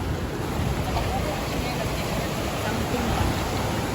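Floodwater pours over a spillway in a steady, broad rushing roar, close and unbroken, with wind buffeting the microphone.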